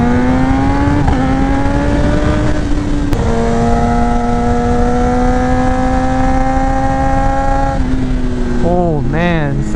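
A Kawasaki ZX10R KRT Edition sport bike revs hard through first gear, its engine note climbing in pitch, briefly dropping at a shift, then rising again before tapering off, loud and close.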